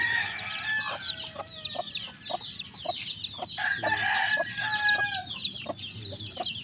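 Chickens and young chicks cluck and chirp steadily in a farmyard, with repeated clucks and a bright, busy chorus of peeping close by, no talking.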